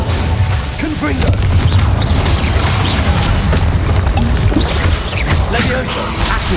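Confringo blasting spells burst repeatedly in Hogwarts Legacy, loud booming explosions over a dense, continuous roar of crackling debris and rumbling impacts.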